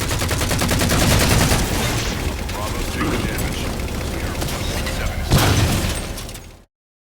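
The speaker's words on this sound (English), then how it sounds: "Target those phantoms for the railgun to shoot down" Railgun firing at Phantom dropships in the video game Halo 4, dense loud booming gunfire and mechanical clatter with a sharp blast near the end amid battle noise, then sudden silence.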